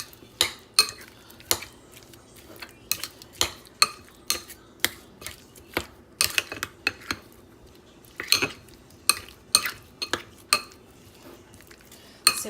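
A spoon scraping and knocking against a cooking pot while stirring food, sharp metallic clinks repeating in an irregular rhythm, close and clear with no talk.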